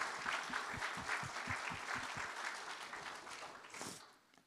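An audience at a Women's History Month event applauds in a steady, fairly distant wash of clapping that tapers off and fades at the close.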